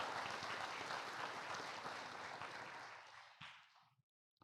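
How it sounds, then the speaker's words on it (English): An audience at a 2024 early college graduation ceremony applauds the graduates, a sustained, full round of clapping that tapers off and stops near the end. "Please give all these graduates one more round of applause for their effort,"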